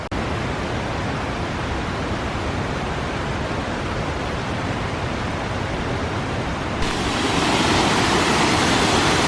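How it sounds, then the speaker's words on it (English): Small waterfalls on Three Sisters Island at Niagara Falls pour in a steady, loud broadband rush, unbroken throughout, the roar growing a touch brighter and heavier near the end, with no voices. "Now, it's not quite Niagara Falls, but it's a pretty cool little set of falls, you have to admit."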